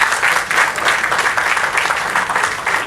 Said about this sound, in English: A huge round of applause for your teachers,